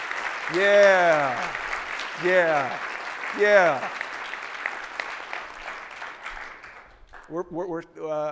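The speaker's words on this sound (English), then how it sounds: "Give yourselves a round of applause, please" Participants at an inclusive leadership session applaud themselves, a steady broadband clapping wash that runs for about seven seconds under a voice speaking over it, then stops as talk resumes alone.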